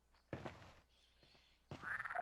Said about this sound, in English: Ah, frogs!